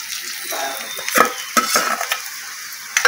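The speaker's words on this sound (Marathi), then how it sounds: "कांदा चांगला परतून झालेला आहे बघा लाल झाला आहे" Tomato goes into onions frying in oil in a pan in a Kokan village kitchen, with a steady sizzle broken by a few sharp scraping stirs and clinks of a utensil against the pan.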